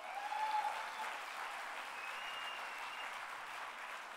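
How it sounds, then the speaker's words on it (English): Applause from a conference audience fills the room, a dense, even wash of many hands clapping at moderate level, steady from start to finish. "Can I get an applause for that?"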